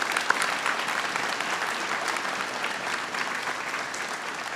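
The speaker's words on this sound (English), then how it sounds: "Let's give them a big round of applause as well." An audience at a medical school white coat ceremony claps in a dense, even round of applause that holds steady for several seconds.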